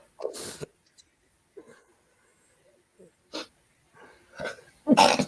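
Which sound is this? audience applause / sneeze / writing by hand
sneeze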